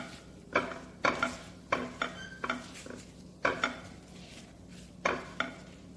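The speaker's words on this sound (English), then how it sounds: "And I'm adding salt to this flour. Now let's mix this together." Flour and salt being stirred together in a bowl, giving a series of distinct scraping and clinking strokes at an irregular pace, close and fairly quiet with brief pauses between strokes.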